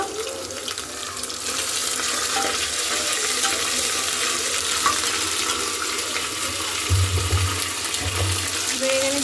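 Onions fry in a pan for hotel-style vegetable pulao, making a steady, loud, hissing sizzle nearby with a few low knocks toward the end.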